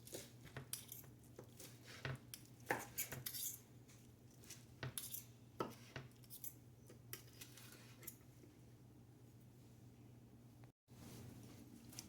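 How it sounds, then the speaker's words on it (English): Knife slicing rested Korean BBQ grilled sesame chicken into bite-sized pieces on a board, with a run of light close taps and clicks over steady low background hum, no talking. "now we just cut it into bite-sized pieces"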